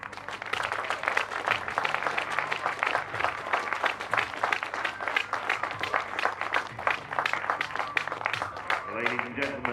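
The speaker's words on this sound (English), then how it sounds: "please give a warm round of applause to our athletes" An audience at a national compound men's archery tour final applauds the athletes, sustained rapid clapping from a crowd that continues evenly for several seconds, with a voice speaking over it near the end.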